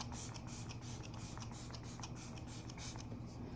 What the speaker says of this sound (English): I like to spray with like a little rose water.